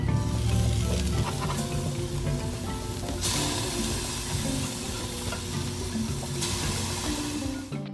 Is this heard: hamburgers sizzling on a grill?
yes